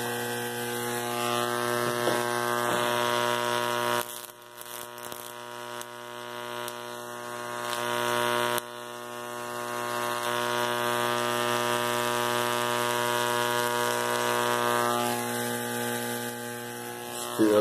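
A mini solid state Tesla coil runs at 30 volts, giving off a steady electric buzz with a rich harmonic tone that holds for about seventeen seconds and briefly dips and wavers near the four- and eight-second marks.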